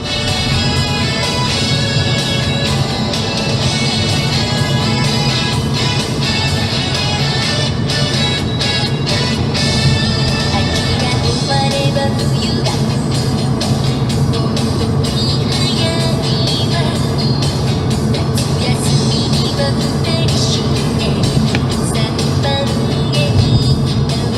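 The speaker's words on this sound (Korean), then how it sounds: "정말 운전 중이신 것 같고요" A car driven along a road, heard from inside as a steady engine and road drone with a loud, unbroken rumble and faint music-like tones over it, continuous for the whole stretch.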